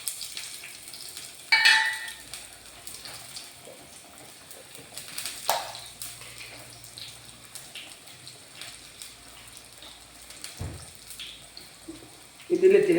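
Kappa biryani cooks in a pan as garam masala powder goes in, with soft intermittent frying and stirring scrapes, a few louder knocks of a utensil, and quiet stretches between; close and moderate in level.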